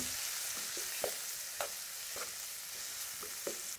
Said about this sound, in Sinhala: දැන් මේ ටික ටිකක් කලවම් කරගන්න